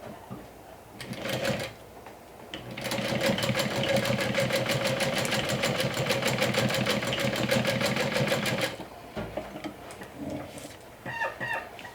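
A sewing machine runs a steady, fast burst of stitching along a raw fabric edge, close and mechanical, with quieter handling sounds before and after.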